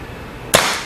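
One crisp, near pop from a Kingman Chaser CO2 air pistol firing, isolated and quick, fading within a fraction of a second.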